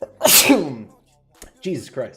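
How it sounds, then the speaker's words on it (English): One loud, sharp sneeze up close, followed after a pause by a person speaking briefly. "And you sneeze."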